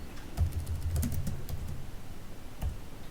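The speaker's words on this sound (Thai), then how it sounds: "ซึ่งเราก็สามารถที่จะ พิมพ์ตรงนี้ได้นะครับ" Close typing on a computer keyboard, a short flurry of clicky keystrokes, then a pause and one more tap, with no voices.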